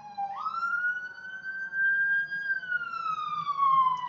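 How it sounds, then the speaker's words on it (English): A wailing police or ambulance siren rises and falls in pitch, clear and fairly near, with a faint low rumble of traffic underneath. "Sorry about the sirens."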